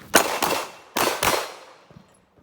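Gunshots during close-quarters shooting practice: four sharp, loud reports fired in two quick pairs about half a second apart, each ringing briefly, followed by a fading tail and faint clicks.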